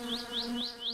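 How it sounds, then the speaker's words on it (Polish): Flies buzzing close by in My Summer Car, a Finnish car-building game, with steady droning wingbeats and four rising whiny sweeps repeating about every quarter second, loud and alone. "te muchy mnie zaraz zjedą"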